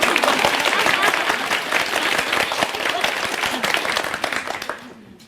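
Loud, dense applause from a lecture audience in a hall, a sustained wash of many hands clapping that gradually thins and fades out toward the end.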